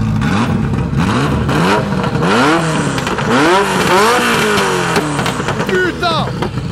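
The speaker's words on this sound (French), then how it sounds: "Mets un coup de gaz" Ferrari F40 engine revving hard and accelerating, rising and falling gear pulls one after another, loud and close inside the car with excited voices over it.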